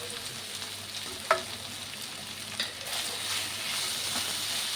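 Potatoes frying in a pan with chili powder and salt, giving a steady close sizzling hiss with a couple of brief clicks from stirring, no talking.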